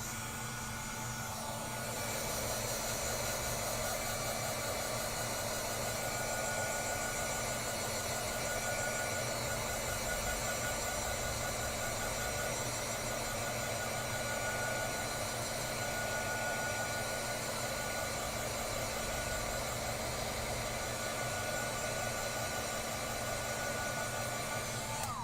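Heat gun blowing on fresh paint for a pop art flowers piece, a steady close whirring blower hum with a constant airy roar that starts after a brief moment and runs unchanged, no talking.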